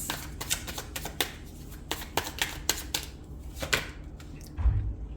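Tarot cards are shuffled by hand in a steady series of crisp riffling slaps, close and fairly quiet, each stroke sharp, continuing for several seconds with no talk.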